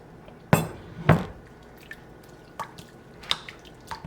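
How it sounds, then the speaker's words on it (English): A spoon stirring protein bar ingredients in a bowl, heard as a few wet, squishy scrapes near 0.5 and 1.1 seconds, then fainter, softer sticky sounds at a close, quiet level. "I just keep stirring."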